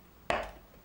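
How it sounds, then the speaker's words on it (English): A single sharp chop of a Sanjia K8009 knife striking a chopping block, one brief close thud with a short decay, heard alone. "Will we be able to try the chopping block with this funny shaped blade?"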